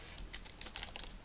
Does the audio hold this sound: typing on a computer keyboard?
yes